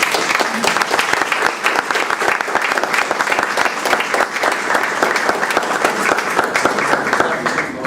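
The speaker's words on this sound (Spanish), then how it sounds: "que a mis 3 profesores invitados le brinden un aplauso de bienvenida" Sustained, dense applause from an audience at a university panel discussion, welcoming three guest professors: loud, continuous clapping throughout with no talk over it.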